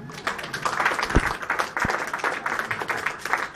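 A church congregation at a wedding service applauds and cheers for the Lord, a steady wash of clapping and crowd noise with a couple of low thumps, fairly close and continuous throughout.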